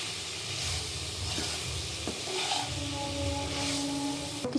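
Soybean chunks and potato curry sautéing in a pan with chilli powder and salt, giving a steady close sizzle with soft stirring scrapes throughout and no talking.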